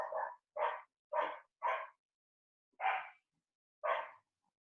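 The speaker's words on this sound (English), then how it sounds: "Can you hear my dog in the background?" A dog barks in the background, six loud sharp barks: four in quick succession, then a pause before two more, spaced apart, with no talking over them.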